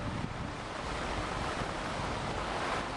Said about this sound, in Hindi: पहाड़ों पर उफनती कावेरी के झरने में इतना वेग है कि नीचे से ऊपर उछलता पानी आसमान में बादलों की तस्वीर बना रहा है